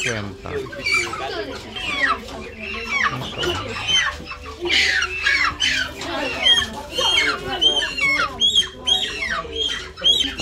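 A flock of around fifty chickens clucks and squawks close by, overlapping calls in irregular bursts, with a person's voice mixed among them.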